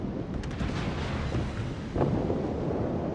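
Warship guns firing rounds in a naval video game, a dull heavy boom about two seconds in under a constant rumbling roar of wind and engine noise.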